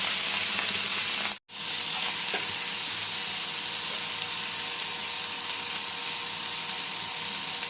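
Chopped dried ribbonfish hits hot oil in a wok and sizzles loudly and steadily, a brief cut near the start breaking the continuous frying hiss.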